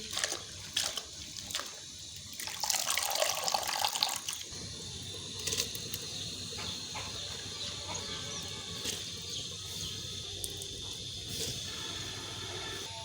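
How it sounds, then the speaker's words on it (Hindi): Lonak greens are swished and washed in water, loud splashing and sloshing for the first few seconds, then a quieter steady trickle of running water with faint bird calls in the background. "अब हम लूणक को अच्छी तरह से धोकर देगची में डालेंगे।"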